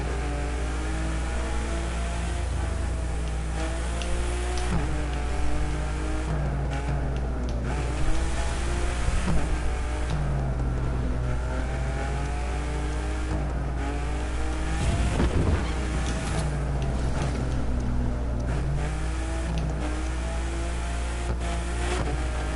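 Car engine revving and accelerating in a racing driving game, a continuous loud whine with shifting pitch and occasional tire squeals, no voices.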